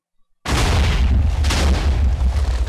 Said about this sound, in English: what a cluster bomb does is basically spews small explosives outwards and then blow up there